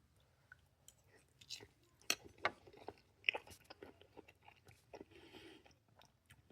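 Close, quiet chewing and crunching of shrimp with vegetables, irregular bites and soft mouth noises over several seconds.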